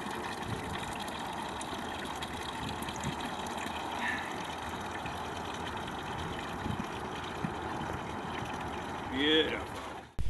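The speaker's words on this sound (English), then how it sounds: "The pump at the bottom of the bladder is pumping the water up to fill this container." A pump at the bottom of a rainwater storage bladder pushes water up to fill a container, giving a steady low hum with running water throughout, and a brief splash near the end.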